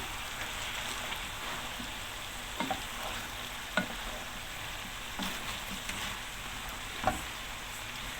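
Chicken sizzling and frying in a pan as it is stirred a couple of times with garlic, a steady crackle broken by a few sharp scrape and clatter accents from the utensil, close and fairly quiet.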